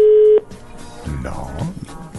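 A loud, steady telephone line tone sounds while a morning radio show calls a guest. It cuts off abruptly after a moment and gives way to quieter line noise.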